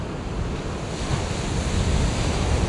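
Choppy ocean waves slap against the shore in a steady, dense rush, with wind buffeting the microphone throughout and no voices.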